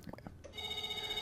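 Phone ringing in the video game Else Heart.Break(), a steady electronic ring that starts after a brief faint murmur and continues alone, quiet and even.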